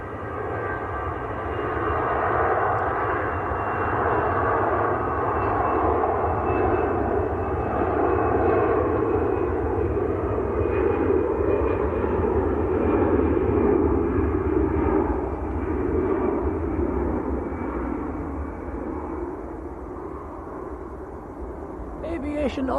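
An airliner departs Manchester Airport bound for Doha, a loud sustained jet roar that swells and holds through the middle, then eases off gradually toward the end, with no voices.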